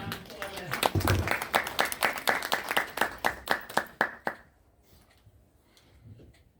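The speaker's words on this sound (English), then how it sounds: "And everybody please give Bereket a round of applause." A forum audience at a United Nations community education event claps for a moderator coming up: a dense burst of many hands, then a loose run of sharp individual claps that thins out and stops, leaving quiet room tone.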